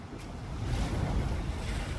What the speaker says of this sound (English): Maybe it's just the waves I heard.